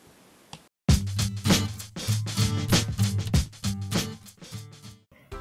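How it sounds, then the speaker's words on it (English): After a short quiet start, several ukuleles played by fifth graders in a school music room strum chords together in a lively, steady rhythm, bright and close, with no voices. "That sound you hear? Fifth graders playing their ukuleles."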